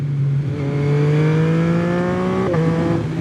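Yamaha MT-09 motorcycle engine revving up in a steady rising whine, loud and close, then a quick drop in pitch as the throttle shifts near the end.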